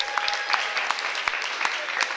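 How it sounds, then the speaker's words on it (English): Audience applause at a reception for an annual Black swim meet, a steady wash of clapping with sharp individual claps scattered through it, moderately loud and continuous for a couple of seconds. "So give yourselves another round of applause."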